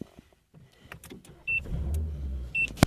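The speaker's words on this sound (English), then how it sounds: "now I'm going to go ahead and turn on my car" A car is started after a few quiet clicks and a chime, and its engine catches into a low, steady idle close by. The engine lifts briefly near the end.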